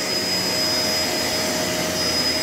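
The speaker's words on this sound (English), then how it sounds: "look at how good this vacuum is" A Shark LA702 Lift-Away vacuum cleaner runs continuously, a loud, close, even motor whine with a sharp high tone and broad airy rush, no voices.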